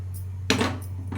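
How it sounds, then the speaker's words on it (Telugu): Dishes and pots clatter in the kitchen of a downstairs home: two separate metallic bursts, a louder one and then a shorter one, heard faintly through a steady low hum. "కిందింటి గిన్నెలు ఎప్పుడు దర్ దర్ దర్ దర్ లాడుతుంటాయండి సౌండ్లు వస్తుంటాయి"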